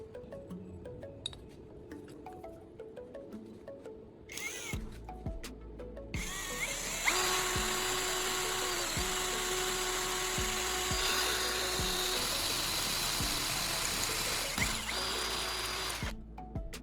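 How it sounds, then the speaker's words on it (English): A power drill bores a hole through the center of square steel tubing with a steady, sustained high whine. The whine holds for over ten seconds, with faint clinks of metal underneath. "drilling a hole through the center, and cutting a slit in one side"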